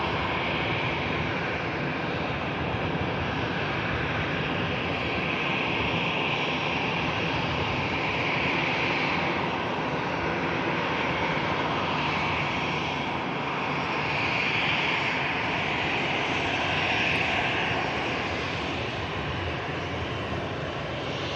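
A Malta Air jet airliner departs Manchester Airport for Limoges in rainy weather, its engines giving a loud, steady broadband roar that holds for the whole stretch with no voices over it.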